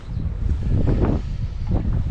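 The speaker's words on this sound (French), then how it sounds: "le vent vient de se lever là, comme vous voyez" Gusting wind buffets the microphone while someone fishes from a small boat on the water, a close, rough low rumble that swells and fades in uneven bursts.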